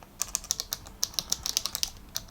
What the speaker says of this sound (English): that clicky sound you obviously know when you've pressed a button